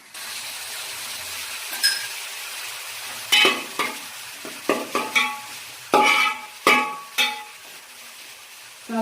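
Sliced onions sizzle in hot oil with a spoonful of salt while being stirred for chicken curry. A soft frying hiss sits under a series of loud, close spoon scrapes against the pan at an irregular pace.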